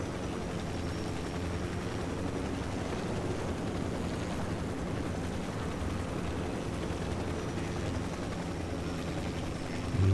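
A helicopter in the video game Ghost Recon Wildlands gives a steady, dense rotor and engine rumble that stays constant and fairly loud throughout, with no voices.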